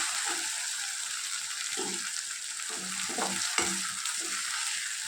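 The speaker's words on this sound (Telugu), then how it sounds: "ఇప్పుడు అల్లం వెల్లుల్లి పేస్ట్ ఒక 2 టేబుల్ స్పూన్లు వేసుకుంటున్నాను." Ginger garlic paste frying in hot oil, a steady loud sizzle with rhythmic scraping strokes of a spoon through the pan, heard up close with no talking.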